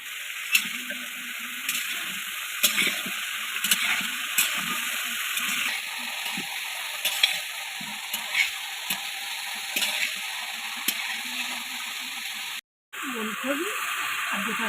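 Vegetables, including kohlrabi and whole flat beans, fry in oil with bay leaf, five-spice and dried chilli for gota chorchori. A continuous sizzle runs under repeated sharp scrapes and clicks from stirring, with a brief dropout near the end.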